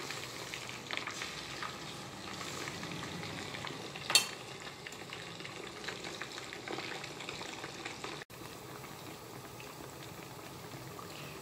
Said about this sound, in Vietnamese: Mình chiên sơ qua nha các bạn, mình cho nhiều dầu và mình chiên thì nó sẽ ngon nha các bạn